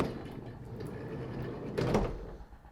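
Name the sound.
Vauxhall Vivaro van side loading door sliding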